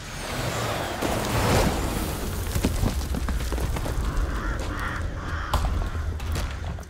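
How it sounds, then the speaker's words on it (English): Crows caw and flap in the video game Death Stranding as birds flee, harsh calls scattering over a loud, rumbling background with occasional booming thuds. "Those birds are running from something."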